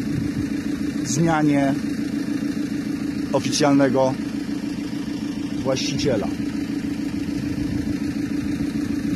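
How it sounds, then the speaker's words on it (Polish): A car engine left idling hums steadily and low in the background, while someone speaks over it in several short bursts. "Pan nie wyłącza silnika"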